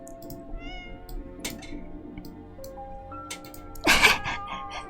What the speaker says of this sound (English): Ah, that's a cat there.